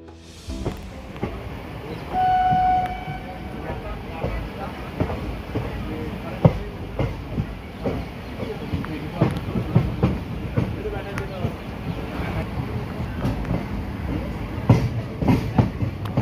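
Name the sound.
train running on rails during journey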